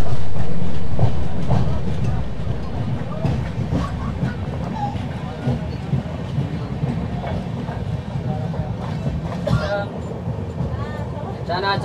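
Kamrup Express pulling out of a station on the Dimapur to Kolkata route, a steady low rumble of rolling wheels and carriages with faint rhythmic clatter, heard close from onboard under chatter and vendor voices.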